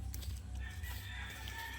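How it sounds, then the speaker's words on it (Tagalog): A rooster crows in a home garden, a quiet, fairly distant call over steady low background hum, with no voices in the clip. "Ito nila yung manok."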